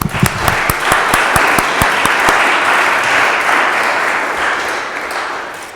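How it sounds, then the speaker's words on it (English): A room full of people applauds steadily, a dense wash of clapping with a few sharp individual claps at the start, loud and continuous. "I'd give them all a round of applause."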